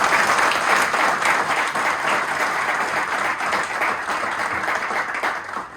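A church congregation at a Friday sermon in Sohar gives loud, sustained applause: a dense, continuous roar of many hands clapping for several seconds, fairly close and even throughout, easing slightly at the end.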